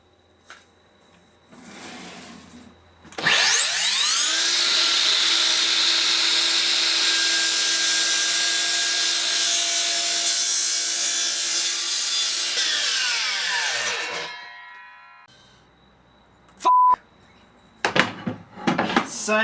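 Makita 40V XGT 305mm (12-inch) cordless mitre saw spinning up with a rising whine and cutting through wood for about eleven seconds, then winding down, with brief clicks and handling noises around it.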